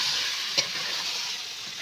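Fish curry masala with ridge gourd sautéing in a pan, a steady close sizzle that fills the whole stretch, with one brief stirring clack partway through and no talking.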